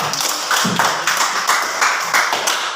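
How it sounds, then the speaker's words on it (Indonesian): Classmates in a classroom clap for a student, giving a loud, close burst of rhythmic group clapping in even, pulsing beats with no talking. "Tepuk tangan dulu untuk Andi."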